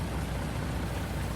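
Rainfall in the Farming Simulator 19 farming game, a steady broadband hiss of falling rain, even and unbroken, fairly soft, with no voices.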